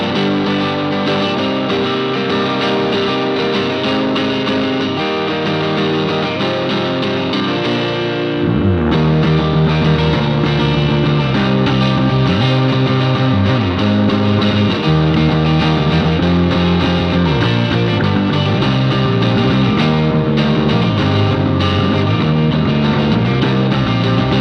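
An electric guitar runs through an EarthQuaker Devices effects pedal, thick and distorted with a chorus-like shimmer, playing continuous dense chords and riffs loudly throughout.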